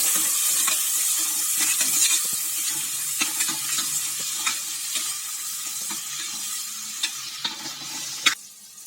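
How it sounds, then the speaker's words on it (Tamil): Onions sauté in a hot pan for vegetable pulao, giving a steady bright sizzle broken by soft scraping and the occasional clink of a spoon stirring them, with no talking. "வெங்காயம் நல்லா வதக்கணும்."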